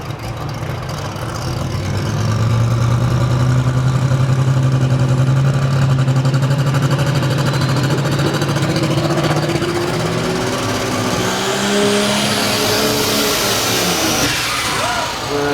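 An old-style International tractor burning alcohol fuel roars through a pull at a county fair, its engine droning loud and steady for most of the run, the pitch climbing as it strains and then fading slightly near the end.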